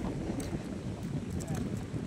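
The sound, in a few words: strong wind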